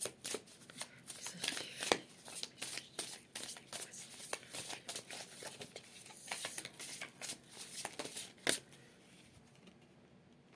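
Tarot cards are shuffled by hand in quick, uneven riffling and slapping bursts, close and fairly soft, continuing steadily with brief pauses and no talking.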